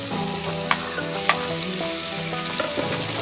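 Tomatoes sautéing with onion and ginger in a pan for pink salmon head sinigang, cooked outdoors in a backyard, give a close, continuous sizzle with a few sharp utensil clinks and no talk.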